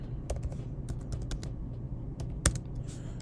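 Fingers type on a computer keyboard in quick, uneven bursts of crisp key clicks, with a sharper keystroke near the end, close and fairly quiet, with no speech.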